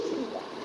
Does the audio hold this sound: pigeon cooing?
yes